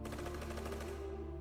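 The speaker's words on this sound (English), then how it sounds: "I identified it as the sound of a Thompson submachine gun" A Thompson submachine gun fires one continuous burst of rapid, evenly spaced shots. The dense, loud rattle lasts just over a second, then breaks off.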